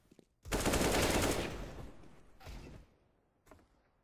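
Gunfire from the Counter-Strike: Global Offensive video game, a loud sustained automatic burst followed by a shorter volley and a faint final shot, with no talking.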